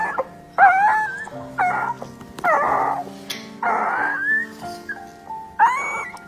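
A two-week-old puppy, abandoned in a box behind the trash, whimpers and yips in a series of high, wavering cries, about six close, distinct bursts separated by short pauses.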